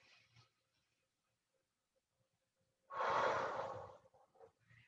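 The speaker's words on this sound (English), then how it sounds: "Inhale, puff it out, exhale." A single deep, audible exhale of about a second and a half during chair yoga comes after a quiet pause, close and fairly loud, with faint breath sounds before it.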